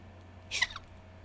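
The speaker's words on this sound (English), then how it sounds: "My hiccups kind of sound like a chihuahua being stepped on accidentally" A single sharp, squeaky hiccup, brief and fairly close, standing alone against a quiet background hum.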